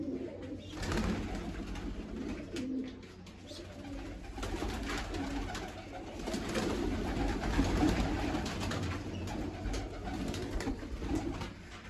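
Pigeons coo in soft, low repeated calls over several seconds, mixed with light rustling and shuffling nearby.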